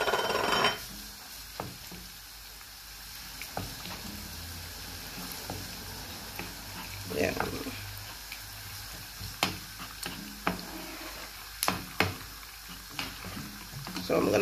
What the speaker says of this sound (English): I'm gonna let it fry for about 5 minutes before adding my tatashe and my tomato